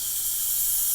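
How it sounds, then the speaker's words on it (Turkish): Excess gas venting from the bottle of a home soda maker, a steady high hiss that holds at an even level for the whole second with nothing else over it. "Şişeyi çıkarmadan önce içerisindeki fazla gazı alıyoruz başta."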